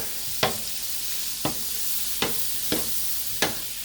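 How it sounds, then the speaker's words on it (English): Half a stick of butter melts and sizzles in a pan, a steady soft frying hiss punctuated by five evenly spaced utensil clicks against the pan. "Now I'm going to take the other stick of butter, half a stick of butter, put in the pan, let it cook"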